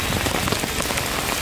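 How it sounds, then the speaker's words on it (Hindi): Heavy rain pouring down steadily at a college, a dense, continuous hiss with no voices over it. "बहुत ज़्यादा बारिश हो रही है,"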